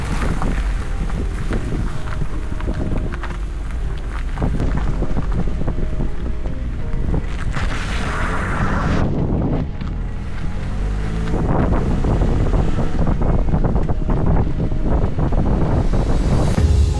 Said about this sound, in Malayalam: നല്ല കിഴക്കൻ കാറ്റ് വീശി നല്ല മഴ വരുന്നുണ്ട് കേട്ടോ